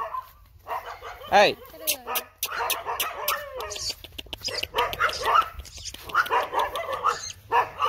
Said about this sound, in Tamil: நாய்கள் எல்லாம் பயப்படுது பயந்து கத்துது